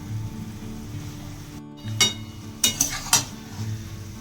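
A spoon stirs shredded cabbage with ghee and garam masala in a pan for Bengali badhakopi ghonto: a few sharp metallic clinks and scrapes come in a short cluster over a quiet, steady background hum.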